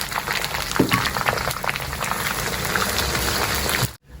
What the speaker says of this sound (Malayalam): ഇഞ്ചിയും ഇട്ട് കൊടുക്കാം.